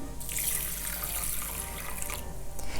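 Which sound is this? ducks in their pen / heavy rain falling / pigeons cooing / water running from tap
water running from tap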